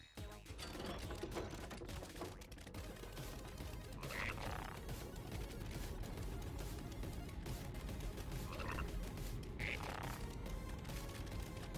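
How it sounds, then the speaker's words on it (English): Frog croaks from the frog minigame in Final Fantasy VII Rebirth sound repeatedly over a dense, steady bed of game music and effects, with no talking. "Barrett's croak sounds funny."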